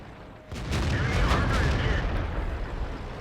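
Tank shells bouncing off armor in World of Tanks, a Panther/M10 Tier 7 medium tank taking hits from a Comet and other medium tanks: a heavy, rumbling barrage of booming impacts that sets in after a brief lull and stays dense and loud throughout.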